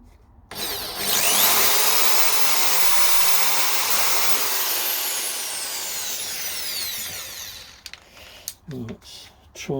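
A corded power drill whines loudly at high speed for several seconds drilling metal, its pitch shifting as it bites, then cuts out into a few short bursts and clatters.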